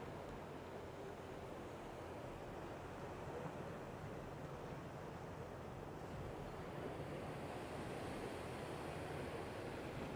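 Ocean surf off Kona, Hawaii at sunset, a steady wash of waves with a continuous broadband roar and some wind noise on the microphone, with no talk.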